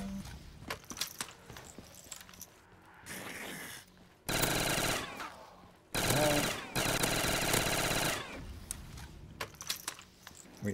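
Bursts of MP7 submachine gun fire in Black Ops 3 custom Zombies, rapid automatic strings of shots in several separate loud runs, with quieter single clicks and game sounds between them.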